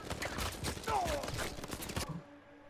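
Gunfire in an Uncharted 4 multiplayer match comes as a rapid burst of sharp shots for about two seconds, fairly loud, then cuts off into quiet.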